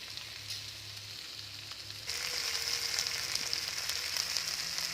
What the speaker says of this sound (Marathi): भेंडी टाकून झाल्यावर त्या ती चांगली हलवून घ्यायची आहे तेलामध्ये